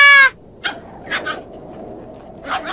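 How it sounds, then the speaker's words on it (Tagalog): Dog whimpers and yips from an anime scene in a Tagalog dub, a few short high cries spaced across the moment, with a brief tonal burst at the start. "Ang cute ng aso!"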